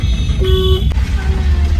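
A vehicle horn gives one short, moderately loud toot over a steady low road rumble, then the traffic noise carries on.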